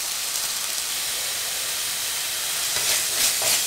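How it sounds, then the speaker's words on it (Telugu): Masala sizzles in hot oil for a mixed veg kurma, giving a loud, steady, hissing fry that stays constant throughout with a few louder crackles near the end and no voices. "సో దీన్ని బాగా ఆయిల్లో వేపుకోవాలండి, చాలా చక్కగా వేపాలి"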